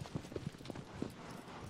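Horse hooves in Shadow of the Colossus, a few soft, uneven clip-clop steps, close but quiet over a light ambient background.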